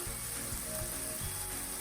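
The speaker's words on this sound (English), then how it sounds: "So the sausage will finish cooking as you go." Sausage frying in a pan for omelets gives off a steady, quiet sizzle, a faint continuous crackle with no talk.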